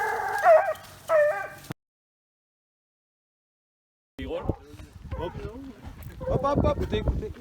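Hunting dogs at a hare-hunting competition give a few yelping barks and howls, then fall silent before a babble of voices talking over further distant dog cries.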